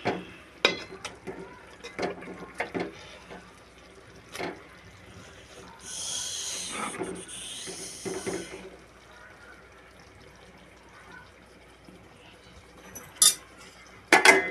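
A spoon stirs beaten eggs in a pan for egg curry, making sparse metallic clinks and scrapes against the cookware, with a brief hissing burst midway and a few sharp clinks near the end.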